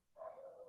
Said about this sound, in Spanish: tengo una jauría de perros acá al lado.